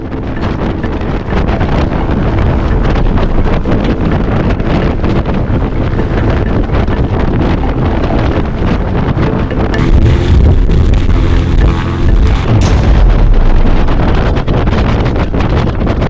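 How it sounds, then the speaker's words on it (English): Powerful artificial wind from a ramped-up fan roars against a tent being tested in extreme conditions, at speeds of up to about 75 mph. The blast is loud and unbroken, with a harsher gusting surge partway through. "we slowly ramped up power, shooting for 3 incremental wind speeds of 30 miles per hour, 50 miles per hour, and full throttle"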